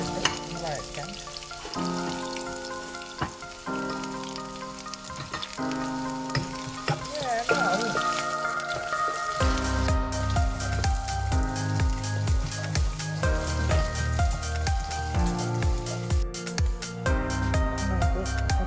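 Chopped sausages and garlic sauté in a pan with a steady hiss and crackle under tuneful background music, which grows fuller and more rhythmic partway through.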